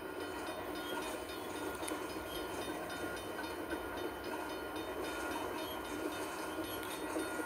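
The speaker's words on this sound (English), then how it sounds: "Well, I see the end of the train." A long train in a video game rolls steadily past, a continuous low rumble with faint clatter and hiss, quiet and somewhat distant.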